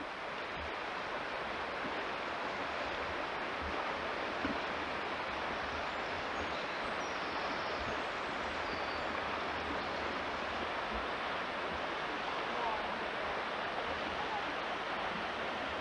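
River water flows in a constant, even rush that fills the whole stretch with steady noise and no pauses.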